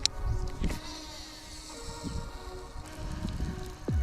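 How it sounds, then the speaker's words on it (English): Gusty wind buffets the microphone on a pond bank while bass fishing, a steady broadband rush with low rumbling swells that rise and ease over a few seconds, with no talking. "I'm hoping this wind's just gonna calm down a little bit over the next 30 minutes."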